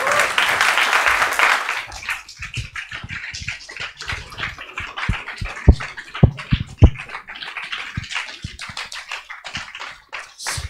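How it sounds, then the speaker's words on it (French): An audience at a live YouTube evening event bursts into applause for a guest, loud and dense at first, then thinning within two seconds into scattered claps and sharp knocks with faint murmuring underneath. "On peut l'applaudir encore une fois."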